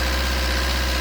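A 2018 Swift Dzire diesel engine runs close by with a steady, loud, low throb and a slight lift under light throttle.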